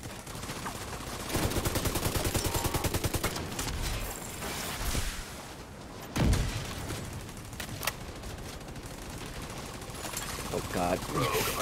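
Repeated gunfire in the video game The Division 2: Warlords of New York, with rapid automatic bursts, scattered single shots and a heavy boom, loud and close throughout.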